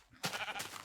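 Minecraft sheep bleating in a single wavering, nasal cry that starts abruptly and holds close and clear for most of a second, with no talk around it.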